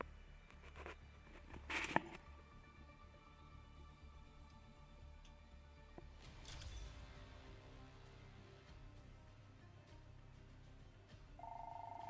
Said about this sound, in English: The sound of the fucking ringer makes me want to put a hole in the wall